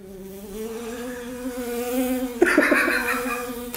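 A person imitates a buzzing bee with the voice, a steady nasal drone that grows louder and rougher near the end, heard alone without speech.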